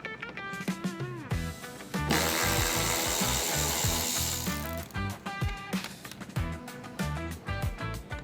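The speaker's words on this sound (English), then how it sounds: "you're going to go ahead and take off the rest of the 10mm" A power tool zips 10mm bolts out of the front bumper of a 2018 Toyota RAV4: one loud, continuous whirring burst of about two and a half seconds, framed by close ratcheting clicks and handling noises.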